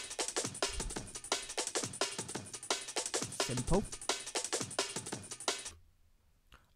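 A breakbeat drum loop played in LMMS, a steady rapid pattern of crisp hits with dense hi-hat ticks running for several seconds, then cutting off abruptly; a voice briefly speaks over it.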